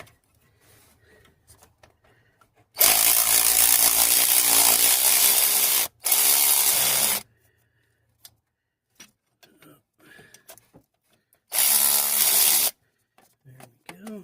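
Cordless power tool removing a rusty bolt on a Pontiac G6 with a no-start problem. It gives loud, close, harsh bursts: a long run of about three seconds, a shorter one right after, then a final one-second burst, with quiet gaps between them.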